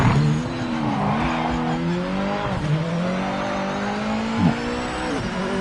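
Brake squeal from a Mazda MX-5 in a racing video game, a thin sustained whine riding over a steady engine drone, with pitch dips and swells as the car slows and accelerates, loud and continuous throughout.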